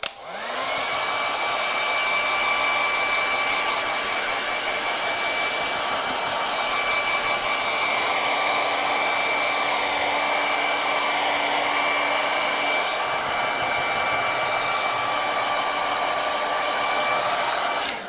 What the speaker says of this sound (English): So I'm going to use a hairdryer to speed things along.